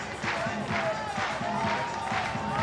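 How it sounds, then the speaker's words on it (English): A crowd at a sport climbing competition claps in a steady rhythmic beat, spurring a climber on, with a commentator talking over it throughout. "Crowd clapping in the background, spurring her on."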